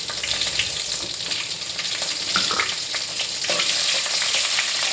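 Dried red chillies and other ingredients sauté in a couple of spoons of hot oil, giving a steady, close sizzle and crackle with occasional stirring scrapes and no talk.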